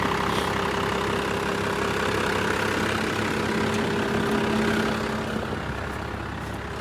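A 1970 Fargo truck with a Cummins diesel engine idling, a loud, steady, low rumble close by that stays even throughout and eases off slightly at the end, with no talk.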